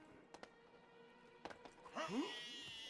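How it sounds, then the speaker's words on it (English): In the LEGO The Hobbit: The Desolation of Smaug video game, a sheep gives one short, wavering bleat near the end, after a few faint clicks over quiet game background. "Right, sheep."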